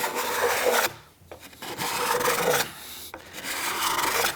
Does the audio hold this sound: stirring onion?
no